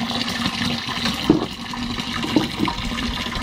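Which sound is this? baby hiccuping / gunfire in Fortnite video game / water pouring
water pouring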